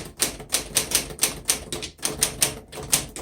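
Typing on a 1936 Corona Standard manual typewriter, with a steady run of crisp, close keystrokes in an even rhythm, each a sharp clack, heard alone without talk.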